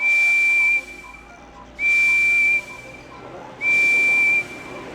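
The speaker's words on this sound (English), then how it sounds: "Here comes my whistle." A steam engine whistle from a Thomas and Friends PC game sounds three times, each a steady, clear, loud tone of just under a second with short quiet gaps between blasts.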